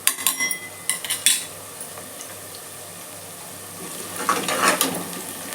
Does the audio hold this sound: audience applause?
no